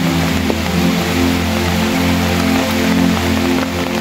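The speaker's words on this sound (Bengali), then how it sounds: "প্রচুর বৃষ্টি হইতেছে" Heavy rain falls on flooded ground in Chandpur, a constant wash of water noise layered with a steady low hum, loud and unbroken, with no speech.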